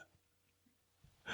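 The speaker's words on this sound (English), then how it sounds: "excuse me, I burped up some of our" A single short, close burp ends a quiet moment, with faint low sounds just before it.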